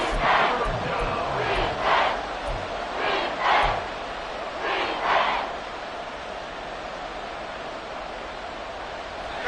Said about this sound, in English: this crowd doing their best to make a lot of racket